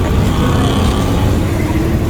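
A car driving through rainwater on a flooded road during heavy rain in Oman, a steady loud rush of tyre spray and engine rumble that holds constant and close throughout.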